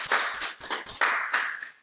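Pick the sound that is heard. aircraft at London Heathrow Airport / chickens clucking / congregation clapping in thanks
congregation clapping in thanks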